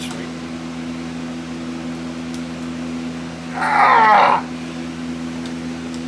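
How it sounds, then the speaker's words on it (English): A workshop furnace gives off a steady low hum with an even tonal drone throughout, broken by a brief louder mechanical burst partway through and a short exclaimed voice. "among the gentle hum of the furnace in here, which is about to shut off"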